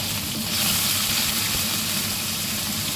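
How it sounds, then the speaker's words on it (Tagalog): A loud kitchen exhaust fan running, a steady, even broadband whoosh and hum that stays constant throughout without pauses. "i-on ko ang exhaust para hindi mabaho dito. Loud but it's okay."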